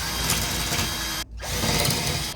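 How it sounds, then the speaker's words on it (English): A power drill whirs loudly and steadily while drilling holes to mount a smoke and carbon monoxide alarm, briefly cuts out, then spins up again for another burst, close and continuous. "Now I'll drill it."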